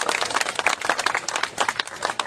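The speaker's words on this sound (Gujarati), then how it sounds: "જોરદાર તાળીઓ ફરીથી એક વખત વધાવી લઈએ." Audience clapping at a live Gujarati stage performance by a father and son, a dense, steady patter of many hands continuing throughout, fairly close, with no clear speech over it.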